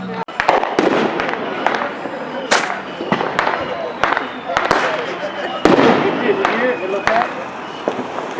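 Fireworks going off across a suburban neighborhood, repeated sharp bangs and crackling bursts, some close and loud and others farther off, with people talking and shouting in between.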